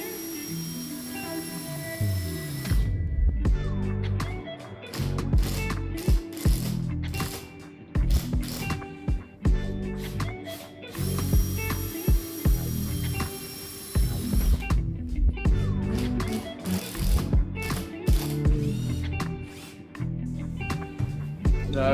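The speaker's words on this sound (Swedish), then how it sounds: "Så där har jag gjort för att undvika att borren ska in för långt." An electric drill bores through a taped spot, with its bit whirring in close, loud bursts that stop and restart with short pauses between runs.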